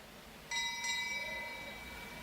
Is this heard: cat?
no